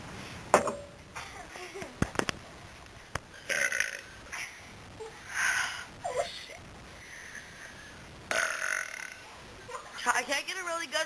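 Loud human burps come in several separate bursts over about eleven seconds, some rough and breathy, with short pauses between them and faint background noise.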